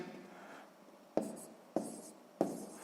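Pen writing on paper while working a sixth-grade math subtraction exercise, heard as a few short bursts of scratching strokes close up, with quiet pauses between them and no talk.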